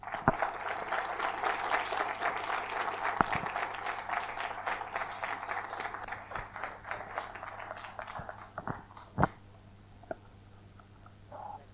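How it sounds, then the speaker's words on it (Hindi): Audience at a workshop session breaking into applause, a dense patter of clapping that gradually thins out and fades, leaving a few scattered claps near the end. "राकेश भाई, जोरदार ताली"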